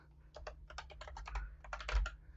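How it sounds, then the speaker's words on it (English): Quick bursts of clicking keystrokes on a computer keyboard set in an unusual spot on a desk, quiet and close, tapping in short uneven runs with a brief pause, alone without speech. "Oops, that's not what I meant to type."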